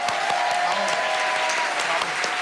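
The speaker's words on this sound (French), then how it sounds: "s'il vous plaît, n'applaudissez pas" A French theatre audience gives sustained, loud applause, a dense, even roar of clapping hands with sharper individual claps popping through, and a faint sustained tone runs beneath it.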